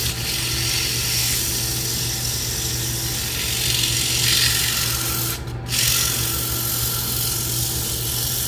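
Sandpaper rubbing against a spinning wooden workpiece on a lathe, producing a steady, close rasping hiss over the lathe's motor hum, briefly interrupted near the end, with no talk.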